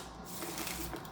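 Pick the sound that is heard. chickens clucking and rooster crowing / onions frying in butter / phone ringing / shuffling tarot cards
shuffling tarot cards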